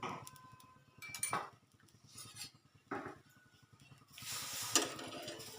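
A dosa cooks on a pan with oil, giving a faint, steady sizzle broken by soft scraping and light metal clinks, close and with no talk.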